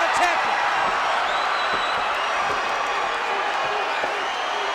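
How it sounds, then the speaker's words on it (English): A large NWA wrestling crowd at Starrcade 1988 keeps up a loud, continuous roar of cheering and chatter throughout the arena, with a commentator talking over it. "This is an NWA wrestling crowd here. They love this physical combat."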